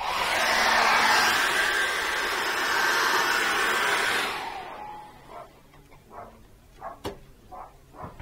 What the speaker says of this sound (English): I'm going to dry that off with a hairdryer.